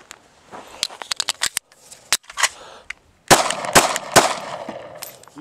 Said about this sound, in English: Another mag, rapid fire.